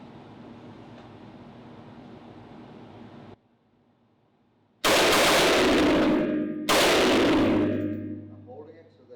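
A rifle fitted with an HTA DigiTrigger 2.2 binary trigger fires on pull and on release: two loud, sharp reports a couple of seconds apart, each trailing off, after a quieter stretch of background noise.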